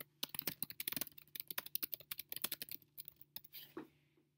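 Rapid keystrokes on a computer keyboard clatter in an uneven, continuous rhythm, close and crisp, slowing to a few scattered taps near the end.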